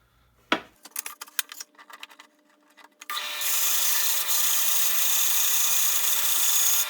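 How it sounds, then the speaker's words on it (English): A bandsaw ripping a wooden board lengthwise runs as a loud, steady, even rasping whine after a few seconds of clattering handling noises and bumps. "Now, I'll head to the bandsaw to rip it."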